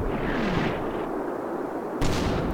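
A mortar artillery barrage in the video game Red Thunder, with continuous rumbling explosions and booms close by, capped by a sharper blast near the end.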